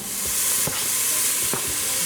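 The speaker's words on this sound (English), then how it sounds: "first we're going to be cooking up our bacon" Bacon frying in a pot on a stove over medium heat makes a steady, close hiss of sizzling fat. A few soft knocks of stirring break through, and no one speaks.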